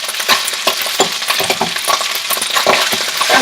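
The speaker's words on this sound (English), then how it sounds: "The whole idea is to get that rice frying." Rice fries in a hot pan for shrimp fried rice, giving a loud, steady sizzle with crackles and pops throughout and no talking.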